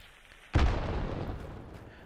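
A frag grenade goes off in Hunt: Showdown as a single sudden explosion, a heavy low boom that hits hard and then trails into a long rumbling decay. A quiet ambient bed sits underneath and no one speaks.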